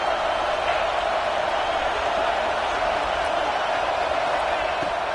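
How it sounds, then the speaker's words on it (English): A packed stadium crowd roars steadily in a college football video game, Michigan against Eastern Michigan, a dense continuous wall of cheering noise with a commentator's voice over it. "Listen to this crowd just shaking the girders of this place"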